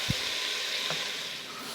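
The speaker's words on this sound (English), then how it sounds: "All we're going to do here is we're going to get a good sear on this beef." Beef searing in a hot pan for beef stroganoff, a steady, close sizzle and hiss that runs the whole time, with a soft thump near the start.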